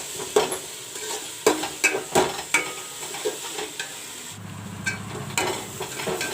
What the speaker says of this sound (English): I will fry the ginger garlic paste little bit.